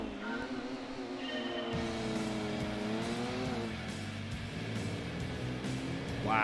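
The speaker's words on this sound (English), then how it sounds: "Wow, that was a long gear change." A race car engine in Gran Turismo 2 revs up steadily, holds its pitch through a long gear change, then drops and picks up again, steady and moderately loud throughout.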